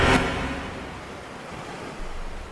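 Seaside waves wash in a radio drama scene, a soft continuous surf hiss with a brief louder swell at the start and another rise near the end, no voices.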